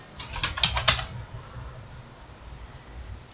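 Computer keyboard typing during a software configuration tutorial: a short quick burst of close, crisp keystrokes in the first second, then quiet room tone.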